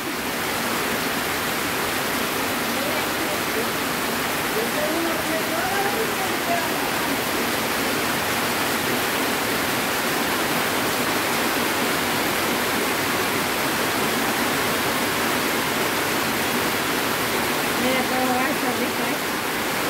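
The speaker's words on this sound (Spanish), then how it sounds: "Es que se ha llovido fuerte y todavía sigue y sigue y sigue." Heavy, sustained rainfall pours down steadily as a loud, dense wash of noise filling the whole stretch, with a faint voice occasionally under it.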